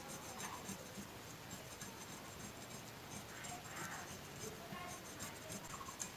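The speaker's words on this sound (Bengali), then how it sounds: "এবার দেখো এই বটির সাহায্যে আমি কিন্তু আলুটাকে এভাবে ছুলে নেব।" A washed new potato being scraped and peeled against a boti blade, giving continuous close rasping and rubbing strokes in an uneven rhythm.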